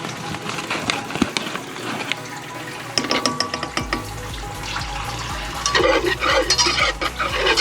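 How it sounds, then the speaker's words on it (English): A wire whisk beats 2 tablespoons of melted butter into 2 tablespoons of all-purpose flour for a baked macaroni and cheese sauce, giving close, irregular metallic scraping and tapping against the pan, busier and louder toward the end. "So you want to whisk this together until you get that flour all mixed in there really good"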